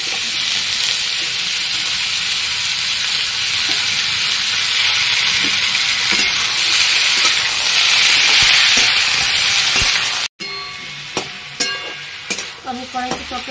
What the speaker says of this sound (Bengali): আমি কড়াইতে তরকারিগুলো দিয়ে সব সুন্দর করে নাড়িয়ে চাড়িয়ে একটুখানি ভেজে নিলাম